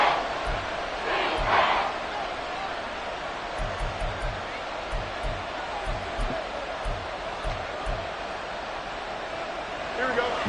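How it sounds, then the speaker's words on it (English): A packed Arrowhead Stadium crowd roars steadily through a late third-down play in a football game, a loud sustained wash of voices with rhythmic low thumps and a commentator speaking over it. "The Arrowhead crowd in full roar."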